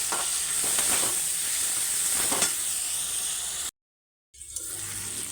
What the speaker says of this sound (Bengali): এবার মশলাটা একটু কষানো হচ্ছে, এবার আমি হলুদটা দিয়ে দিলাম।